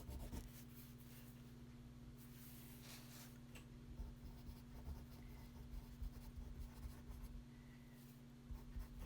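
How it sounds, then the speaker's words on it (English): Pen scratching on paper while a note is jotted down, a faint, steady scribble with small strokes over a low hum of background noise and no talking. "It was one last thing I had to write down."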